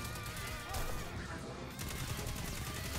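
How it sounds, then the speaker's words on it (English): Rapid gunfire from a weapon in the Destiny 2 PC beta, a dense, continuous burst of shots with a crashing swell partway through, loud and close with no talking. "Put some headphones on and just listen to this gun fire."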